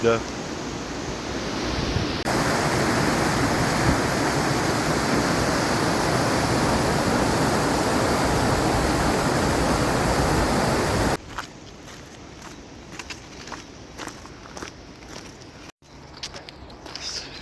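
A small waterfall cascade, a loud steady rushing hiss of falling water heard up close for about nine seconds, then abruptly dropping to a quieter background with scattered clicks and rustles.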